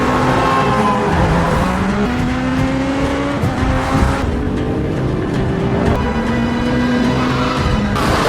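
Engines rev and whine in a high-speed chase scene from an action film, with rising and falling pitch sweeps, bursts of tire squeal and loud, dense road noise throughout and no voices.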